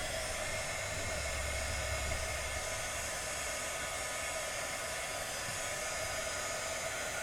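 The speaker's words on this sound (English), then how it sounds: "So we're going to dry this layer." A hair dryer or heat tool blows steadily on a freshly airbrushed craft-paint layer on a galaxy-themed tumbler, a continuous close whoosh lasting the whole stretch with no talk.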